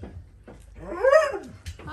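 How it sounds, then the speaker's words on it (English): Four-week-old puppies scuffle with small whiny growls and yips, one rising and falling growl standing out, close and fairly quiet. "I do love their little puppy growls though."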